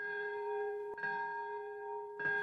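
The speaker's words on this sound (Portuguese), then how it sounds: "O som do sino marcou o minuto exato em que a bomba caiu sobre Nagasaki." Bell tolling at the Nagasaki atomic bomb memorial ceremony, a deep resonant strike ringing with a long sustained hum, then struck again near the end, solemn and alone without voices.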